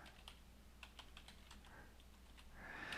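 Someone typing a chart title on a computer keyboard in Excel: a quick run of light, close key taps in an uneven rhythm, fading into a soft rising rustle at the end.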